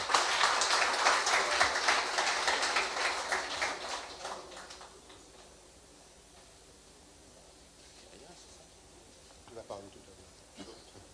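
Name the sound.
audience applause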